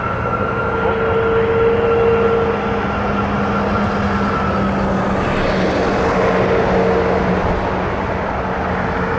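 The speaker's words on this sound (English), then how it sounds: "Let's have a shot at that 330 taxiing." An Airbus A330 airliner taxis at Toronto Pearson airport, a steady, moderately distant engine roar with a faint tonal whine, continuous with no talk.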